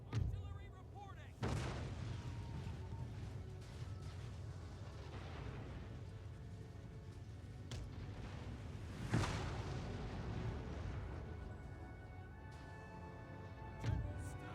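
Artillery fire in the strategy game Empire Total War: several deep booms land every few seconds over a continuous low battlefield rumble, with other game sounds mixed in.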